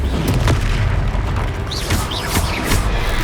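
Confringo fire spell blasts in the Hogwarts Legacy video game, a dense run of loud booming explosions and bursts layered over battle noise, with several sharp impacts in quick succession.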